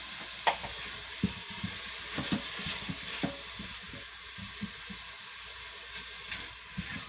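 Garlic sizzles and hisses faintly in an Instant Pot while being stirred, with soft scraping clicks scattered through a quiet, steady frying sound and no one speaking.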